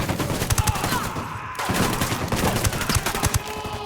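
Rapid bursts of submachine gun fire in the video game Ghost Recon Wildlands, dense overlapping shots with a brief pause midway, loud and close within a busy combat mix.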